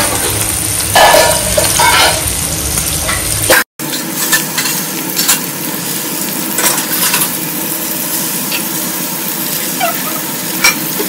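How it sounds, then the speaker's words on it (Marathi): Prawns fry in hot oil on a flat iron pan, a loud, continuous sizzle and crackle close up, broken by a brief gap and scattered sharp spatters throughout. "गरम झाल्यावर मी त्यात प्रॉन्स फ्राय करून घेते."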